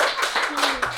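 Audience applause for three contestants at a live freestyle show, a steady wash of many hands clapping with a faint voice over it.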